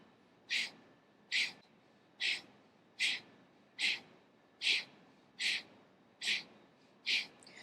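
Rapid yoga breath of fire, with nine sharp, forceful nasal exhales in a steady rhythm of about one per second, close and clear against a quiet room.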